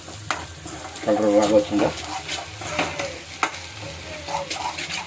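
Masala being stirred with turmeric in a pan, a spoon scraping through sizzling, frying oil in a steady close-up rhythm, while someone talks over it.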